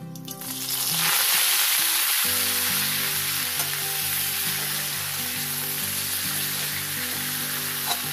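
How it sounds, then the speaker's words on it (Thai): Jute leaves are stir-fried with garlic in a pan, giving a loud, steady sizzle and crackle that swells in after the first second and holds throughout, with background music playing underneath. "กระเทียมที่เหลือเราจะเอาใบปอลงผัดเลยนะคะ"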